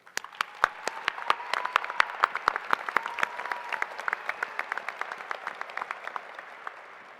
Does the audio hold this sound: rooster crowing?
no